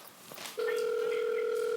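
A telephone call connects with a steady, unbroken electronic tone that starts abruptly after a moment of quiet kitchen background noise and holds at a constant level to the end.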